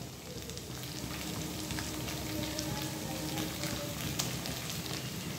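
Chicken keema bharta with coriander leaves sizzling in a pan, a dense, even crackle close by with faint occasional scrapes as it is gently stirred.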